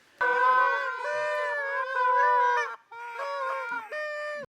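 A Canada goose call blown by mouth, giving loud honking notes in two long runs with a short break between, close and clear with no voices.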